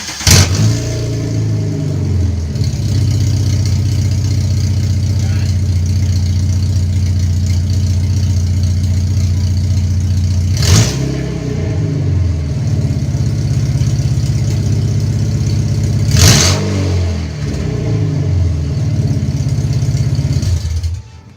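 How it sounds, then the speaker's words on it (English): Car engine running with the exhaust removed, idling with a loud, raw low rumble close by, punctuated by two or three sharp revs that swell and drop back to idle. "I want to see how my car sounds with no exhaust."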